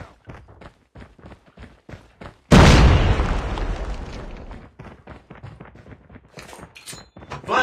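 A grenade goes off in Call of Duty Mobile with a sudden loud boom that rolls off over a few seconds, surrounded by quieter rapid footsteps and movement sounds before and after.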